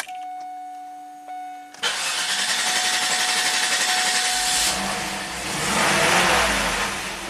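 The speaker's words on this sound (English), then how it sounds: "Crank no start. Let me try to do a clear flood." A Cadillac Allante engine cranks but does not start during a clear-flood attempt after a hot soak, giving a loud, steady, continuous cranking drone that runs alone for several seconds after a short quiet stretch with faint tones.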